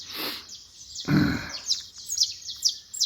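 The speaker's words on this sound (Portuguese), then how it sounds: "Os passarinhos já estão cantando, vocês devem estar ouvindo." Small birds chirp and tweet at dawn in quick repeated bursts, fairly faint, with a brief low rumble partway through and no speech.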